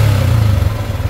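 Engine noise from a Yamaha Sniper 155 motorcycle with a loose manual tensioner after a tappet adjustment and tune-up: a close, steady, loud running hum with a rapid clattering rattle and no talk.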